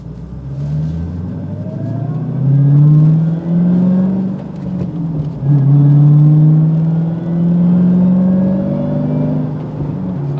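Dodge Challenger Hellcat with a six-speed manual gearbox, driven at night, roars loud and close from inside the cabin as its engine revs climb through gears, with brief dips at each shift.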